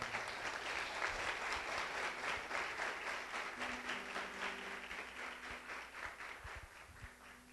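A church congregation claps together in sustained applause during a Portuguese-language service, a dense, rhythmic patter heard at moderate distance that gradually tapers off.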